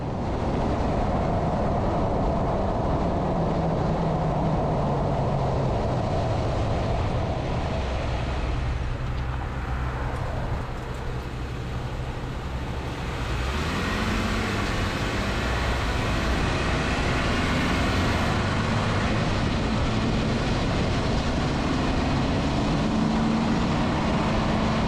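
Vehicle with a modified steering setup, track bar and drag link, driving around the block on a road, a continuous loud rumble of engine and road noise with a shifting tone midway and no voices.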